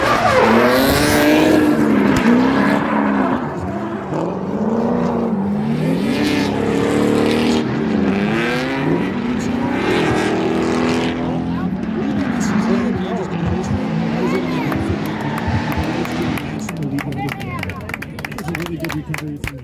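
Drift cars at a drift competition roar and screech through a hillside course, engines revving in rising and falling waves with tire squeal, loud and close, while a commentator talks over the action.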